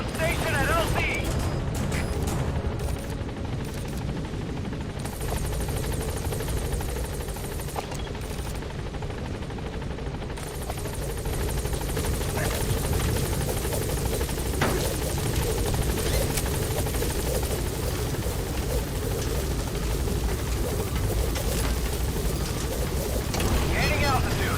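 Steady rotor thump and turbine whine of a helicopter approaching a landing zone in Metal Gear Solid V, loud and continuous, with scattered game effects and a voice speaking over it.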